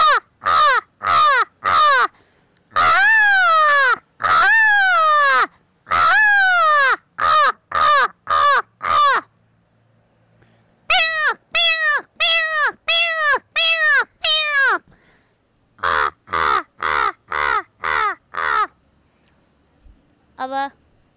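A woman mimics a crow's caw with her voice. She gives repeated harsh, nasal caws in quick bursts of three to five, loud and close, with short pauses between the groups.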